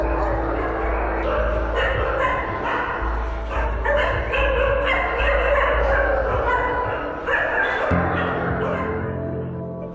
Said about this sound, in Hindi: देसी विदेशी नस्ल के कई कुत्ते